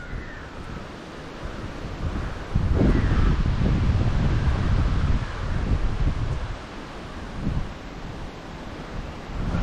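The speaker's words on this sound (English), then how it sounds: "There's a bit of a wind too. I wonder if you can hear above the wind noise." Gusty wind blows across a rail bridge on a hillside railway hike, roaring steadily into the microphone with heavy buffeting rumble that swells and eases in loud surges.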